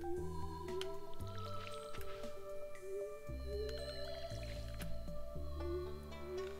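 Watering crops with a watering can in the farming game Stardew Valley: soft wet squishing and dripping splashes repeat over steady, tuneful background game music.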